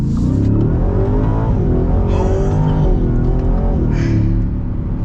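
A 2023 Ford Raptor R pickup truck accelerates hard at full throttle, its engine roaring loud and close with a steady, rising growl that holds for about five seconds without pause.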